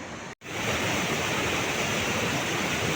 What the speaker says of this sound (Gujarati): ઉપરથી ક્યાંકથી ધોધ પડે છે